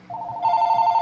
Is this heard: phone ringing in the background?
yes